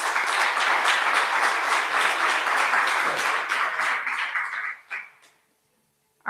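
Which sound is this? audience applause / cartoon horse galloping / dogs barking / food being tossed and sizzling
audience applause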